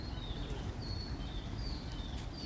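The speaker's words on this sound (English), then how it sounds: "You can hear the birds chirping." Small birds chirp in a peaceful garden on a calm day, with thin high calls repeating faintly at a distance over quiet outdoor ambience.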